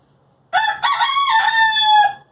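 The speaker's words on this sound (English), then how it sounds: "So they're my chaotic chickens." A rooster crows loudly and close by, one long cock-a-doodle-doo with a stuttering start and a drawn-out, wavering finish, and no other sounds.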